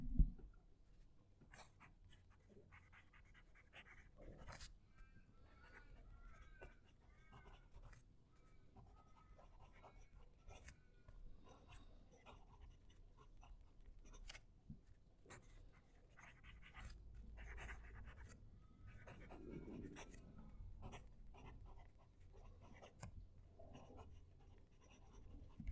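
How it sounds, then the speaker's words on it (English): Fountain pen nib scratching across paper, a close, quiet, continuous writing sound with soft strokes and small taps, no voices. "Let me just move the mic to the paper so you can hear the pen writing"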